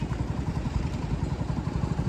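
A tractor engine chugging in town road traffic, a fast steady low thumping with a faint clatter, fairly near and without any talk.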